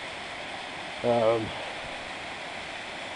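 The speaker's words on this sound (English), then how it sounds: "this is the waterfall" A waterfall roars steadily as a dense, even rush of water, with someone briefly speaking over it near the middle.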